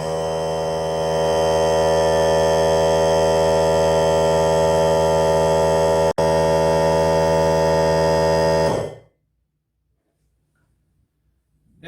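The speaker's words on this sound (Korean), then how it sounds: "또 다시 또 탱크에 에어를 보충해 주게 됩니다" A 24V battery-powered air compressor refilling its tank, a loud steady motor hum with a strong buzzing tone that runs continuously, then cuts off abruptly into near silence.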